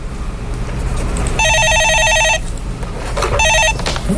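A telephone rings twice in bright electronic bursts, loud and close, as a caller dials in to a Korean stock-market radio call-in show, with studio background between the rings.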